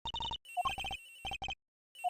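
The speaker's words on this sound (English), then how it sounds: "It's ringing from somewhere, sir!" A telephone in Ace Attorney Investigations rings with bursts of bright, electronic trills separated by short pauses, clear and alone.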